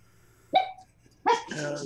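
A human voice imitates a dog barking: two short, loud voiced barks about a second apart, the second running into a longer vocal sound.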